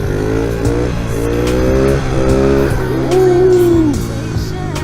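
Honda XR70 pit bike engine revving hard during wheelies, a loud close buzzing note that climbs and drops in several bursts with no talk over it.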